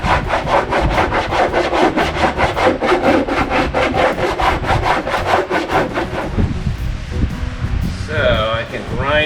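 Abrasive work knocks down high spots on a beach buggy build as a steady run of quick, rhythmic rasping strokes, loud and close. The strokes break off near the end, where a voice can be heard.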